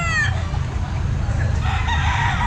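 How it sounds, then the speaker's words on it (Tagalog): Roosters crow loudly and repeatedly at a busy pet market, their calls rising at the start and again near the end over a steady din of crowd noise. "Maraming manok mga kabosing."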